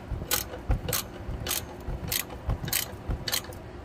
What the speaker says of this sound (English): I had to loosen this slightly so I could tighten the top bushing down